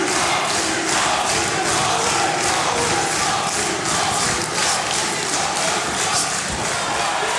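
A boxing crowd at a Southampton fight night roars continuously through a fifth round, loud sustained cheering and shouting filling the hall from start to finish.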